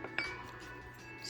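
A teaspoon clinks against a container while scooping matcha powder, giving a couple of faint, bright metallic taps close by in a quiet room.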